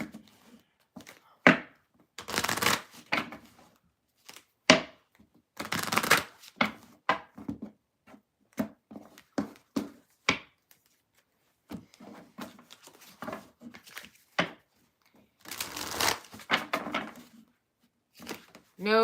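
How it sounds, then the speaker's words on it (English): Tarot cards being shuffled at a table, repeated bursts of riffling and soft slapping thuds in irregular clusters with pauses between, close and clear, no talk. "We are shuffling to do Gemini."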